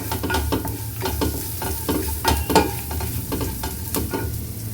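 Dried red chillies and chilli powder sautéing in a pan for sambar, a continuous close sizzle broken by repeated scraping strokes of a spatula, with no voices.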